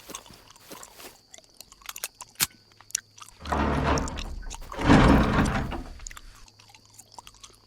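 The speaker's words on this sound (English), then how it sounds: "What are you chewing on?" Chewing and crunching from a character in the video game The Mad Shepherd: sparse clicks at first, then two loud, dense bursts of wet biting and mastication that fade out near the end.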